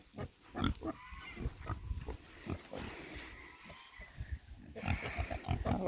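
Pigs grunt and snort close up in irregular bursts, some loud and rough, over a noisy outdoor background.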